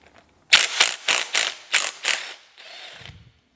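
A ratchet wrench loosens bolts on a VW 2.0 TDI BKD diesel engine, six quick loud bursts of rapid clicking, then a softer trailing turn.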